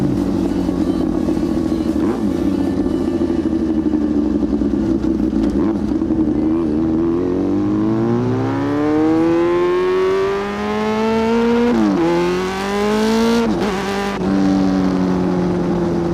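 A loud Yamaha R6 sport motorcycle revs hard and climbs through the gears, its engine note rising steadily with sharp drops at each upshift, close and continuous with no talking.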